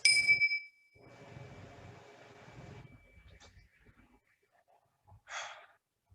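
A single bell rings at a contemplative church service, a clear bright strike that fades in a long sustained ring, followed by quiet breathing and small room sounds, then a short later burst of sound.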